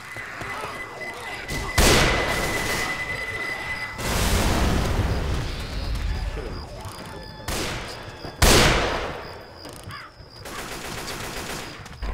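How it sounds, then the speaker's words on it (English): Repeated heavy blasts and rattling gunfire in Left 4 Dead 2 on a swamp level, including a pipe bomb exploding, with loud booms and sustained shooting throughout. "Pipe bomb out."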